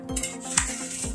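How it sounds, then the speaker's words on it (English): A metal baking pan of roasting granola is pulled from an oven's bottom rack, giving a few faint scraping, clinking metallic knocks in quick succession, close and quiet, with no talk. "Take this pan off the bottom rack."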